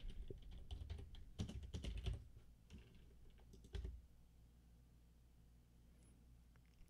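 Keys clatter on a computer keyboard during coding, a quiet burst of quick, irregular taps over several seconds that fades into near silence.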